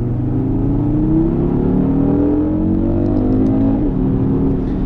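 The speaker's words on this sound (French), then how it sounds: "le 5 cylindres il fait un bruit" The five-cylinder engine of a 2020 Audi RS Q3 Sportback revs steadily with a throaty, rising drone, loud and close, holding a continuous rumble throughout.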